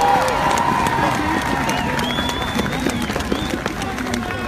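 A large protest crowd outside the immigration office in Brussels cheers and applauds, a loud, dense roar of clapping and voices that holds steady, with some whistles rising above it.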